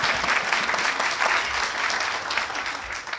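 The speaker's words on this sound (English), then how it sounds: "these guys over here deserve a round of applause too" Audience applause at a Health Sciences Center groundbreaking ceremony at Montgomery County Community College, steady, dense clapping from a crowd throughout, fairly close.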